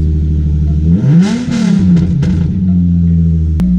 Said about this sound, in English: Why not do a rev?